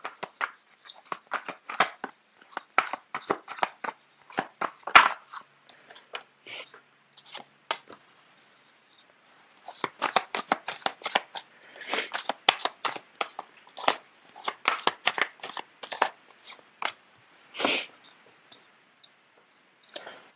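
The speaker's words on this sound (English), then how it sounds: "The cards are not shuffling too well." Tarot cards are shuffled by hand in close, crisp bursts of fluttering riffles and clicks, separated by short pauses, with no talking.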